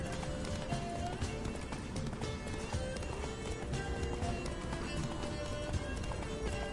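A horse gallops in The Witcher 3: Blood and Wine, its hooves drumming in a quiet, steady running rhythm over soft ambient game sound.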